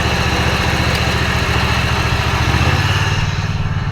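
A zero-turn lawn mower engine runs steadily at idle, a loud, close, continuous low rumble with a slight shift in pitch partway through and no talking over it.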